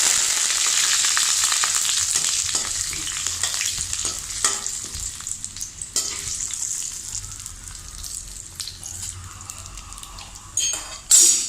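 Urad dal, dried red chillies and curry leaves frying in hot oil for a papaya thoran, with a steady, close crackling sizzle and a few sharp spatters and pan clinks throughout, no voices.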